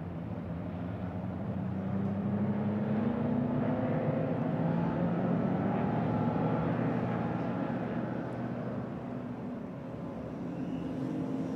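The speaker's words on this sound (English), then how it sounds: "how this legendary cars screams through the main straight of the Hungaroring green" Race cars roar down the Hungaroring main straight, a sustained engine drone heard from trackside that swells and recedes with a pitch sweep as the cars pass, steady and moderately distant.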